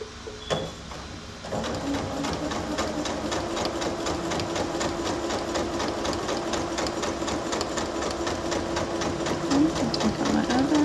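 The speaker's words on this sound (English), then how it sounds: "we are going to just stitch all the way across at 1/2 inch" A sewing machine stitching straight across a wreath sash at a half-inch seam runs in a steady, close, rapid mechanical rattle for about nine seconds after a few brief handling knocks.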